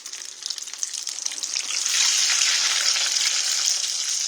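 Fried pies sizzle steadily in a hot pan, a loud, continuous crackle and hiss that swells as more pies are added, with no talking.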